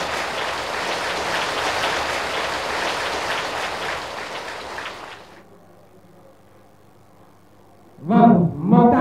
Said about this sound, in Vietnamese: đề nghị đạo tràng kính mời cho một tràng vỗ tay dài đặc lắm để chúc mừng cho sự kiện trong lần này